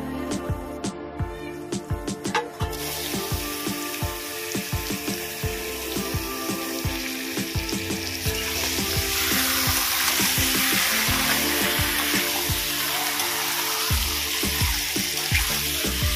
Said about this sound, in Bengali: মশলাটাকে ভালো করে কষানো হয়ে গেছে, তেল ছেড়ে দিয়েছে। আমি এবার মাংসটা দিয়ে দেব।